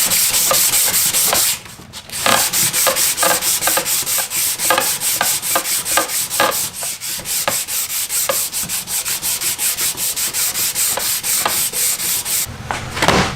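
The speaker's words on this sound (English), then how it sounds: "Be prepared to go through a lot of sandpaper, especially on bigger rockets." Sandpaper rubbed by hand over the epoxy fillets of a high power rocket, a Wildman 5-inch Punisher build, in steady rhythmic back-and-forth strokes, close and loud, with one brief pause near the start.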